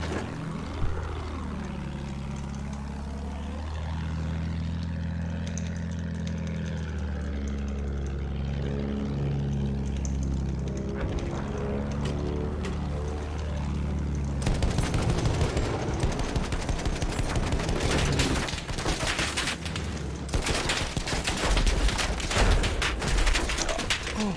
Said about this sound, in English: I'm being chased by the bomber! He's dogfighting me!